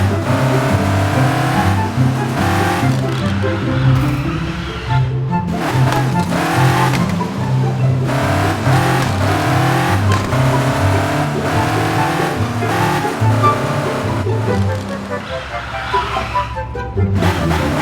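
A car engine in the Car Parking Multiplayer game revs and drives in a junkyard area, loud and close, its pitch climbing and dropping repeatedly as the car stops and starts while zigzagging.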